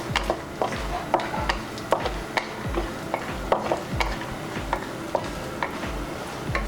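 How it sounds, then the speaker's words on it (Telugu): Almonds, cashews and raisins frying in ghee with a soft sizzle, while a spoon scrapes and taps the pan in steady, repeated strokes nearby. "ముందుగా డ్రై ఫ్రూట్స్ మనం ఫ్రై చేసుకుందాం."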